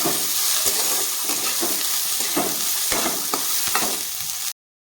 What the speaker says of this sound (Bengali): ডিম তো একটু আমি নেড়ে চেড়ে নেবো